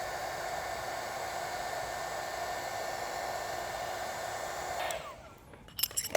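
A heat gun blows a steady, even hiss of hot air over the Tesla emblem area for about five seconds, then cuts off, leaving a few faint clicks and handling noises.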